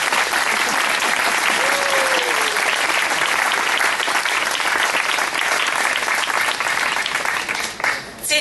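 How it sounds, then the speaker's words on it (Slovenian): Enthusiastic applause from an audience at the 2019 Liber.ac festival opening, continuous and loud for about eight seconds before tapering off at the end. "še enkrat velik aplavz za Ole deklice"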